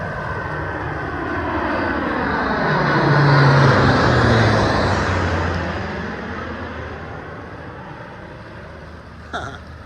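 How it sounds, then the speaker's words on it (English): A fixed-wing propeller aircraft flies low over an anchored sailboat, its engine drone swelling to a loud peak midway before fading away, with a brief sharp knock near the end. "Nice little flyby for us."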